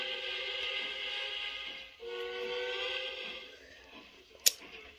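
A sustained train whistle in the video game Trainz Simulator 2 blows for several seconds, dips briefly, then sounds again before fading, with a sharp click near the end.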